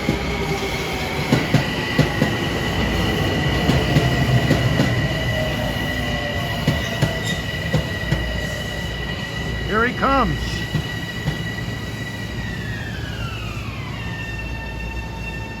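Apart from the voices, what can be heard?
Metro North train 849 passing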